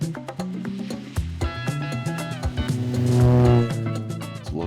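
A rally car passes a checkpoint on a time-speed-distance rally, its engine loud and close, revving and rising to a strong drone before easing off, with rumbles and clicks throughout.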